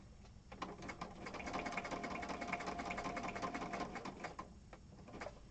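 A sewing machine stitches paper pieces onto a scrappy junk journal cover, with a close, steady mechanical whir and fast needle chatter that runs for several seconds and slows slightly near the end.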